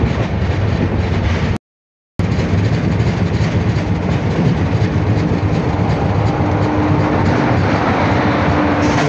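SMVT Bengaluru–Kamakhya AC Express rolling into Rangiya Junction, a steady loud rumble of wheels on track with faint rhythmic clatter, broken by a brief gap near the start, no voices.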